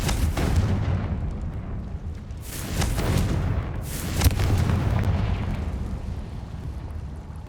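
A Confringo spell explosion in Hogwarts Legacy bursts with a loud, rumbling boom, followed by a second heavy blast about two seconds later, each trailing into a dense roaring wash.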